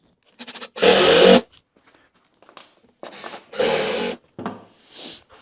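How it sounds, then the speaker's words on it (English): A power drill drives screws into wood while building a rolling workbench, heard as a few separate whirring bursts of one to two seconds each, close and moderately loud, with short pauses between them. "So I'm going to screw it off really well."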